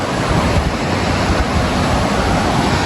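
Water rushing and churning near the shore at Sukute Beach, a steady, loud broadband roar that holds constant throughout with no voices over it.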